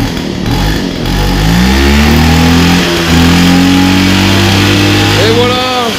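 A Mobylette 50cc moped engine at a classic car gathering in Valloire, running and revving with a rising, buzzy whine that holds steady, near and loud, while people talk nearby.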